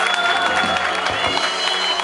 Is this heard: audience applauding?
yes